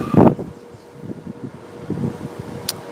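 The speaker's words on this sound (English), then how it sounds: "It's windy, it's rainy, it's cold." Gusty wind from tropical storm Ophelia sweeps through New York City, a loud buffeting blast at the start, then steady rumbling wind noise on the microphone with scattered gusts and a brief sharp knock near the end.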